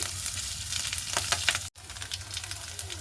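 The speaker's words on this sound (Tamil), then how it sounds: "இப்போ நாங்கள் வெட்டி வச்சுருக்கிற பச்சை மிளகாயையும் இதோட சேர்த்து ஒரு பிரட்டி விடுவோம்." Chopped green chillies stirred and sautéed in a pan, a bright, steady sizzle with scraping stirs, broken by a brief cut to silence midway.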